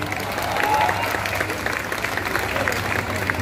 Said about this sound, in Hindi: एक बार अपने लिए दमदार तालियां बजाइए